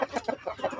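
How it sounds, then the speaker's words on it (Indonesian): Young chickens on a backyard poultry farm cluck in a quick run of short, close calls, several overlapping bursts with no talking. "anakan ayam"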